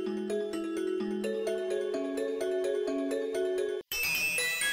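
A melodic electronic ringtone from a phone in a horror-style video game, with repeating tinkly chime notes over a steady bass line, loud and continuous, then a brief cutoff followed by a harsher buzzing tone.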